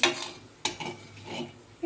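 Bay leaves, a dried chili and cumin hit hot oil in a kadai, giving a bright sizzle with spoon-and-pan clinks and stirring scrapes, close and moderately loud.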